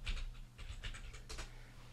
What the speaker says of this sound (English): I'm going to type in disk part.